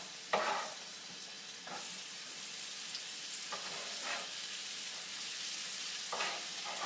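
Shallots sauté in melted butter in a pan, giving a constant soft sizzle with occasional scrapes from a spoon, fairly quiet and steady throughout.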